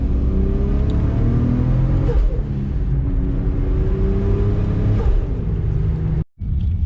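An engine drones steadily as an E85-fuelled car gathers speed toward 80 km/h, its pitch rising gradually with a couple of gear changes, then cutting briefly to silence near the end.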